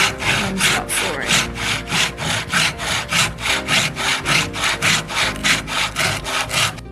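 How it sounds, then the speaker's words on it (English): A tenon saw cutting through wood while making a finger-jointed box, with steady rhythmic back-and-forth strokes, about two per second, loud and close with no talking. "And start sawing."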